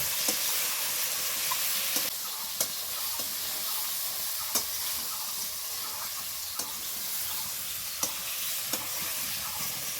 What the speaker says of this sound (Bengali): এখন আমি এই ভেজে রাখা পটলগুলো দিয়ে দেবো এই মশলার সঙ্গে এখন আমি ভালো করে কষিয়ে নেব